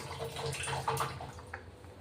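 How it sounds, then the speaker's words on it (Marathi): Water poured from a bowl into a bowl of curd for dhokla batter gives a short, continuous splashing pour. It sits close and moderately loud, with light liquid gurgles throughout and no voices. "त्याच दह्याच्या वाटीत पाणी घेतलंय, पण अर्धी वाटी पाणी टाकतोय आता"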